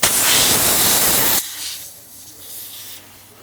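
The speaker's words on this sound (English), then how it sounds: "when I take this air hose off, it's gonna emit a lot of air out" Air bursting from a large truck tire once the air hose is pulled off, a loud close hiss that cuts off abruptly after about a second and a half, leaving quiet room noise.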